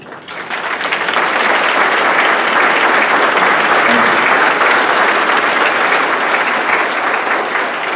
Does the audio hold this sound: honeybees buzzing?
no